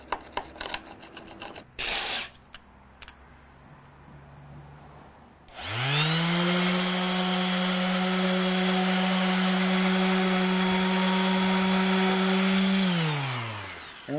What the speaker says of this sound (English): and after a little sanding there